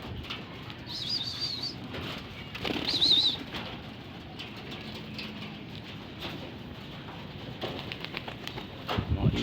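Pet pigeons beat their wings in several flurries of flapping, with occasional soft coos and chirps around them.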